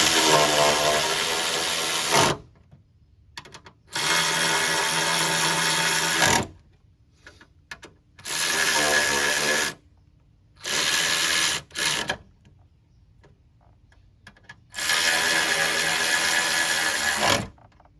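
A ratchet tightens bolts on a GM minivan's radiator, giving five loud, close mechanical whirring bursts of about two seconds each, separated by quiet pauses.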